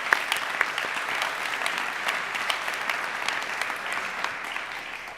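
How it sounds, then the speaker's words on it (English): An audience at a senior awards and recognition ceremony applauds National Honor Society inductees, with sustained, dense clapping and a few sharper individual claps standing out, holding steady from start to finish. "Please join me in one final round of applause for our outstanding inductees."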